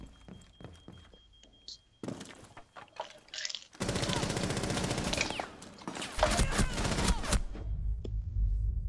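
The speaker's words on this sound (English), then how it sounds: "He's just randomly shooting." Gunfire in Rainbow Six Siege: scattered single shots and impacts give way to sustained rapid automatic bursts that are loud and close, mixed with breaking and crunching debris.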